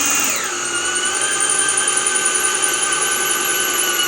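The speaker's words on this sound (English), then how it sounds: "So basically I'm gonna pre-drill my holes." A cordless drill spins up with a brief pitch sweep, then holds a steady high whine while pre-drilling holes in 2x4 lumber framing windows inside a school bus conversion, close and loud with no talk.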